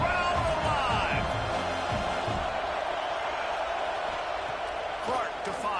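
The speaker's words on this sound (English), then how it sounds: "Crowd alive." Stadium crowd in the NCAA 26 college football video game roars in a red zone moment, a dense sustained cheer with scattered whoops and thumps, loud and steady throughout.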